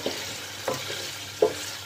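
Mutton with ginger and garlic fries in a pot for masala mutton pilao. A low sizzle runs quietly throughout, broken by three brief stirring scrapes.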